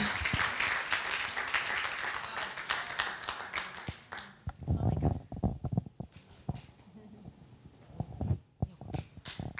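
Church congregation applauding during a Spanish-language Pesach Shabbat service, a dense broadband clapping wash that thins after a few seconds into scattered claps and thumps, with talk mixed in.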